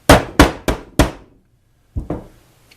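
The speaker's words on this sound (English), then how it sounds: "get the pin to about the halfway point and complete it with the hammer" Four sharp hammer taps in quick succession, a pause, then two more lighter taps, close and crisp, driving a pin into a Kimber Pro Raptor 1911 pistol frame.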